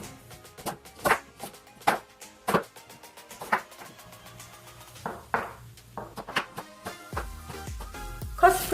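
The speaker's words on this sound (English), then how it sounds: "Shred carrot thinly." A knife shreds carrot thinly on a cutting board, sharp separate chops in an uneven rhythm, close and clear with short pauses, ending in a few clinks.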